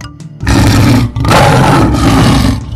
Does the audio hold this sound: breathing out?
no